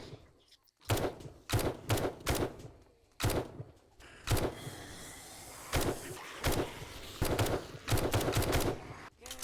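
Gunfire against a zombie horde in the 7 Days To Die video game, repeated sharp shots in short bursts and single cracks, loud and close, with brief gaps between volleys.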